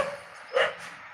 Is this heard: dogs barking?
yes